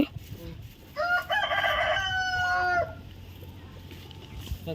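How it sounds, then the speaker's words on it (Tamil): A fighting rooster lets out one loud, full crow lasting nearly two seconds, close by, over a busy outdoor background of low murmur and clucks. "சண்டை கோழி."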